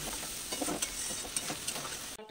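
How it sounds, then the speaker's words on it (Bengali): Tomato paste masala being stirred and fried in oil for a rohu fish curry, a dense close sizzle broken by repeated scraping strokes of the spatula, with no voices, cutting off abruptly at the end. "দিয়ে এবার টমেটো বাটা দিয়ে দিচ্ছি। দিয়ে এবার ভালো করে কষতে হবে যতক্ষণ না তেল ছেড়ে আসছে।"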